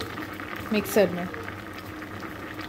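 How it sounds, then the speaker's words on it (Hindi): Pot of four tomatoes and two onions boiling for a restaurant-style paneer gravy, a steady low bubbling simmer running throughout, with a brief louder clatter near the middle and a voice speaking over it. "पहले हम चार टमाटर और दो प्याज ऐसे बॉईल कर लेंगे अच्छे से।"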